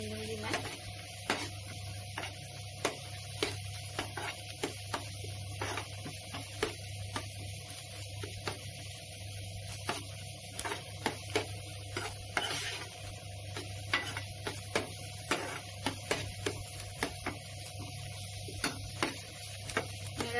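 Onions frying over medium heat in a pan until lightly browned, a steady soft sizzle with repeated scraping and clicking strokes of a spoon stirring throughout, and no voices.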